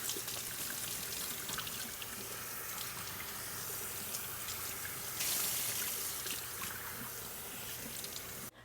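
Tap water runs steadily over green leaf lettuce being washed, a continuous close splashing stream with no talk, swelling briefly louder partway through.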